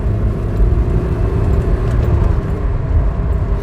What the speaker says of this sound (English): I wonder if the viscous fan is a bit sticky on this one as well. There's quite a bit of fan noise going on.